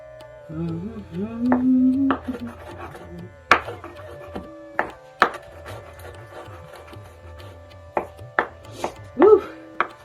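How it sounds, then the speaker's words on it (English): Knife chopping fresh ingredients on a board for a crockpot lamb curry, with a series of sharp, separate taps at an uneven pace, close and fairly quiet, over faint kitchen background noise. "I'm going to chop these up while those are browning a little bit more."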